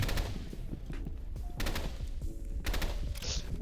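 Rapid gunfire bursts in the shooter video game Rivals, three dense volleys of automatic shots separated by short pauses, loud and close, with faint game sounds between bursts.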